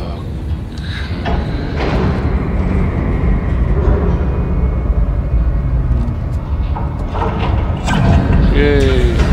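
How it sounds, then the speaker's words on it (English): A train engine moving in the video game Dead Space gives a loud, continuous low rumble and mechanical drone, with brief voice-like sounds near the end. "The train's hooked up and ready to head out the south gate."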